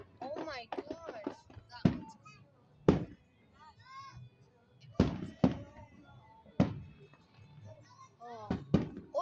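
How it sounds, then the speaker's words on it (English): Fourth of July fireworks explode in a series of sharp, booming bursts spaced a second or two apart, with excited people talking and exclaiming in between and over the blasts. "Bro, the blue firework beat all of them, dude"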